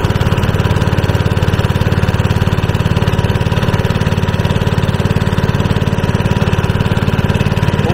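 A small riverboat's engine runs steadily and loud up close, a constant low chugging drone with a rapid even pulse that holds without a break and carries no voices.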